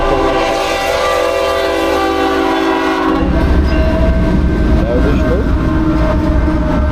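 A freight train with several locomotives and container wagons passes close and loud, with a horn blast followed by a heavy rumbling roar and wheel clatter; a voice speaks briefly.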